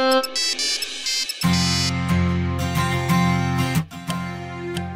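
A mobile phone rings for an incoming call indoors, a repeating melodic ringtone playing loudly, with brief pauses between phrases.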